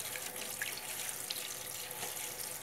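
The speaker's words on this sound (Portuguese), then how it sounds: "Lava-se bem em água corrente." Tap water runs steadily over freshly picked herbs, including bitter melon sprigs, as they are washed: a soft, continuous hiss and splatter with faint drips, quiet and close, with no voices.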